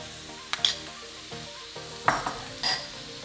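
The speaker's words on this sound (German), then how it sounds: "Und das wird angebraten, bis es sich aufgelöst hat." Tomato paste frying in a pan while being stirred, with quiet sizzling and several clinking scrapes of a utensil against the pan, no talk.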